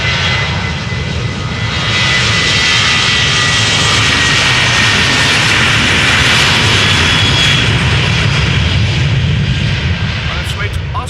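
A 19-year-old KLM Boeing 737-900 departs Amsterdam Schiphol Airport bound for Oslo. Its loud, continuous jet engine roar rumbles steadily for the whole stretch.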